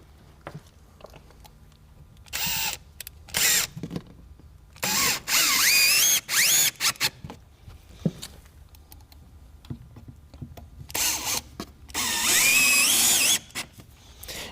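A power drill runs in short and longer whirring bursts as it drives installation screws into a wooden shutter side frame, the motor pitch rising as each screw seats, with quiet handling noises between bursts.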